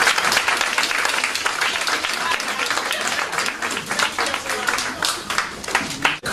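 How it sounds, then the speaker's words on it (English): An audience at a business talk gives a round of applause, thick overlapping clapping that stays strong throughout with scattered louder hand claps before it cuts off. "I would like to give you a round of applause"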